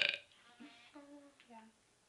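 A girl lets out a short, low burp that is drawn out and wavering, faint and close, after a brief louder sound at the start.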